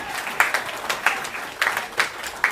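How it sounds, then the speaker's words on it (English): Audience at a school graduation ceremony giving a short round of applause: a sparse, uneven patter of hand claps in a large room, moderately loud, without speech. "Big round of applause"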